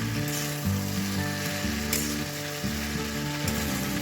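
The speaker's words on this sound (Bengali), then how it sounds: "সবজিগুলো বেশ ভাজা ভাজাও হয়েছে" Mixed vegetables sizzle and fry steadily in a pan, with a continuous crackling hiss and a few soft scraping stirs, close and unbroken throughout.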